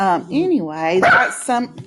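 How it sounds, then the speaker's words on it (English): Dogs bark in the background under a person's talking voice, the barks mixed into the speech and not loud or distinct. "Sorry for my dogs."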